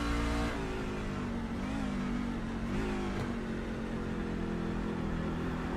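NASCAR trucks race at Watkins Glen in the iRacing sim, their engines holding a loud, continuous drone with shifting pitch as several trucks run close together, with no talk over it.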